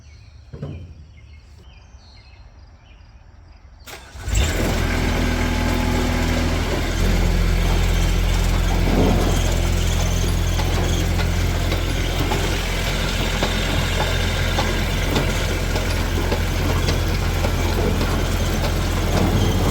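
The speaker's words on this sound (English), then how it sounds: "I want to go ahead and start up the machine and let's see this thing working without the panels on" Gear-driven machine with its side panels removed starts up after a few quiet seconds, then runs steadily and loudly with a continuous mechanical clatter and whir of turning gears, no talk over it.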